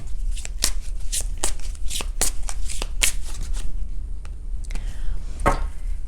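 Tarot cards are shuffled by hand in quick, crisp riffling bursts, close and clear, followed by a short pause and a final flurry of card slaps.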